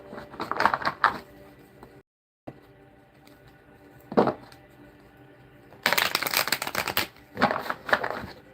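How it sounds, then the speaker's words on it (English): Tarot cards are shuffled for a reading, giving rapid riffling and slapping bursts in several loud, close rounds separated by brief pauses and a moment of silence. "So that means we're shuffled up for you."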